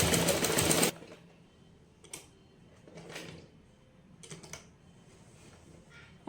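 A sewing machine stitching a deep V neck, opening with a loud close burst of rapid stitching and followed by a few short, quieter runs of stitches separated by pauses.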